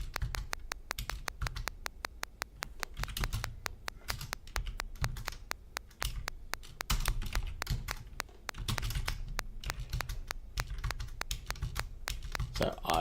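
Rapid, irregular clatter of keys as commands are typed on a computer keyboard for the retro dungeon game Dungeons of Daggorath, quiet, close taps in uneven bursts running throughout.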